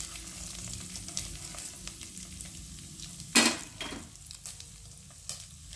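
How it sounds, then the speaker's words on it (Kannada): Mustard seeds fry in a hot pan for sambar powder, giving a soft steady sizzle broken by a few sharp crackling pops and bursts as the seeds spatter. "ಸಾಸಿವೆ ಹಾಕ್ತೀನಿ."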